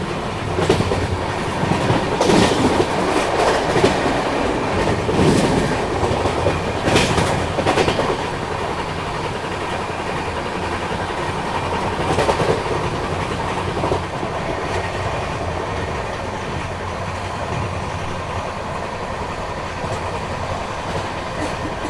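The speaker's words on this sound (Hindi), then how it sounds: "तो फिलहाल अपनी ट्रेन ठीक ठाक रफ्तार में भाग रही है" Ahmedabad Gorakhpur Express passenger train running at speed, a loud steady roar of wheels on rails with rhythmic clickety-clack beats and occasional sharper rattles, continuous throughout with no talk.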